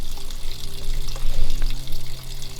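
Grey water pours steadily from a camper van tank built into an ambulance conversion, a loud continuous rushing splash with a low rumble underneath and no voices.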